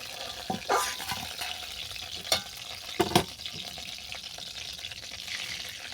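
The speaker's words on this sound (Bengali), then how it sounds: "বাকি যে দুটো আছে ওগুলোকে আমি একইভাবে ভেজে নিচ্ছি" Pabda fish fry in hot oil with a steady close sizzle, broken by a few louder bursts of spatter and stirring scrapes, with no talking.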